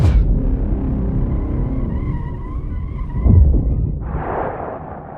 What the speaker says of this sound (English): He goes straight into the barriers like a missile with no target.